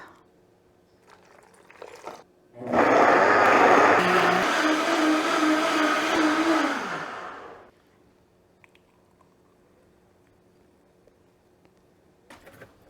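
A blender whirs for about five seconds blending fruit and a cup of water into a healthy juice, a loud, steady motor roar with a falling pitch toward the end, then stopping abruptly into near silence.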